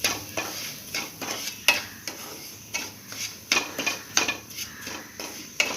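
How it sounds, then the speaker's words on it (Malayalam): Semolina (rava) is stirred in ghee in a pan with a spoon, giving repeated scraping clinks and strokes in an uneven rhythm over a faint sizzle, close up. "ഒന്ന് ഇളക്കി കൊടുക്കാം"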